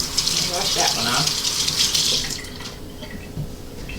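A kitchen tap gushes as a tomato is rinsed for canning, a loud hissing splash that thins out toward the end, with a voice briefly audible over the water.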